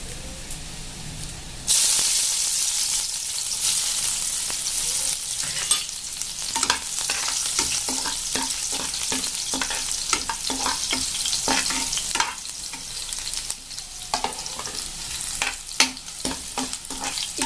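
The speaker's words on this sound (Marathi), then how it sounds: "आता मी तेलामध्ये लसण ॲड करते" Crushed garlic fries in hot oil in a pan, a continuous bright sizzle with repeated scraping and stirring clicks of a spoon running throughout, close and fairly loud.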